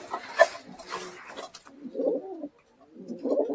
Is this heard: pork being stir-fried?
no